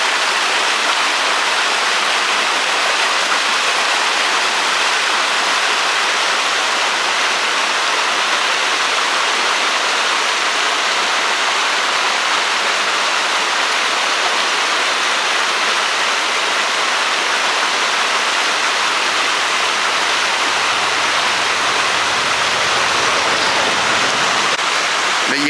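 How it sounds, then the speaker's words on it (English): Steady, loud rushing of a creek in Mynatt Park, Gatlinburg, water flowing constantly with a dense hiss and no pauses. "this beautiful creek that's running through here."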